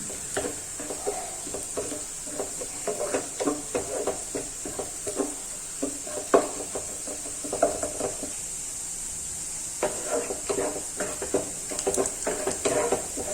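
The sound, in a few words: onion being sautéed in a pan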